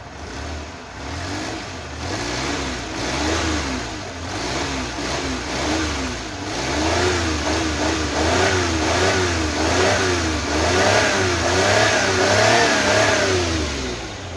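A cold multicab mini truck engine revs repeatedly during a tune-up, rising and falling in rhythmic surges, loud and close, with a steady rumbling idle underneath between pushes.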